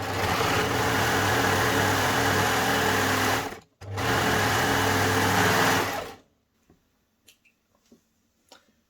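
4-thread serger overlocking thick upholstery fabric, a loud fast whir for about six seconds with a brief pause partway, then near silence with a few faint clicks.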